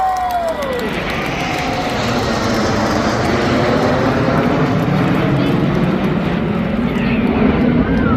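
The Red Arrows jet display team sweeps past in formation at the Blackpool Airshow, a loud, sustained engine roar filling the whole stretch with a steady, broad rush and faint crowd noise beneath.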